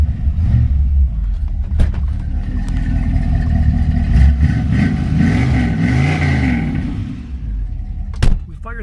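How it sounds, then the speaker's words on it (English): A 1960 Ford Thunderbird engine runs on a test drive, a steady low rumble with mild revving swells and some clatter, close and fairly loud throughout. "Out test driving a 1960 Ford Thunderbird."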